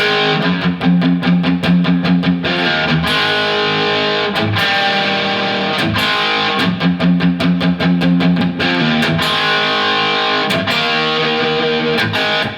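A distorted electric guitar plays a riff for about twelve seconds, loud and alone. Chugging palm-muted notes alternate with sustained chords in a steady rhythm.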